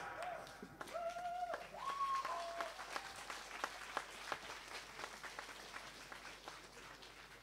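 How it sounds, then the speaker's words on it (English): A live concert audience applauds at an experimental electronic music show, a spread of many clapping hands rising and lingering at a distance, faint and somewhat thin, with a few whistles near the start. "That's the end of the beginning, so clap."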